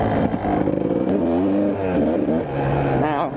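Kawasaki KDX 200 dirt bike engine with a gear fault revs steadily and loudly close by, its pitch rising and falling in wavering sweeps across a few seconds.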